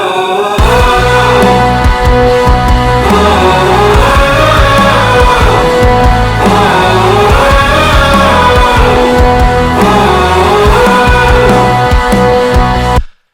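A loud, dense full-band music mix plays continuously, running from the intro into the verse after a limiter, with a steady heavy beat and sustained layered tones throughout.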